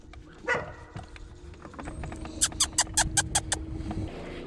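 A dog barks from the shore at a bass angler on the water: one early bark, then a quick run of about seven sharp barks at a distance, over the low drone of a boat.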